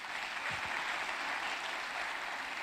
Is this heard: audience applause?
yes